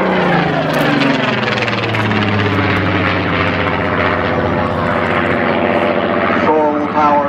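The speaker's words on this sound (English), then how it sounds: "Jim Beasley and the Super Spitfire" A 2,000-horsepower Supermarine Spitfire Mk XVIII fighter roars past at speed, its piston engine and propeller drone loud and sustained, the pitch sliding downward as it passes and recedes near the end.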